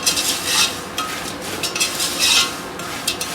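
Asafoetida is stirred into hot oil for a tempering while making thin poha chivda. The spoon makes quick, close scraping strokes against the pan over a faint hiss.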